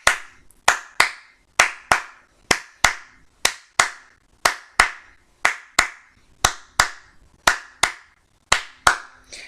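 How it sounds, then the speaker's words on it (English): Hands clap a steady long-short rhythm, sharp close claps repeating in pairs with a longer gap then a shorter one, continuing for several bars with nothing else heard. "I'm going to clap this for a while."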